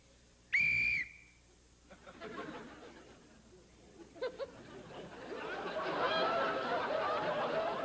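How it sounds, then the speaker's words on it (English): A police whistle is blown once, loud and close, in a short shrill burst on a TV game show stage, followed by audience chatter and laughter that build steadily. "maybe if you blow this police whistle"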